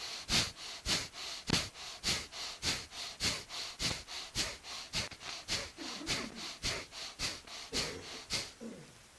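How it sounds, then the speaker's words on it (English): Rapid, rhythmic breath-of-fire breathing during a twisting yoga exercise, about twenty sharp, evenly spaced nasal exhalations close to the microphone with no talking. "Twist left and right and make it like a light breath of fire."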